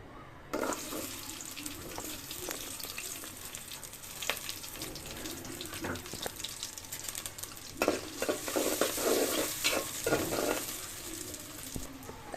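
Chopped onion and chili frying in mustard oil hiss steadily in a pan, with intermittent stirring scrapes and clinks growing busier toward the end; close and moderately loud, no speech.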